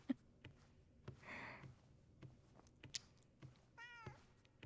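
Cat meowing in the horror video game Junji Ito Maniac: An Infinite Gaol, one drawn-out meow near the middle and a short rising cry toward the end, moderately loud against quiet game ambience with faint clicks.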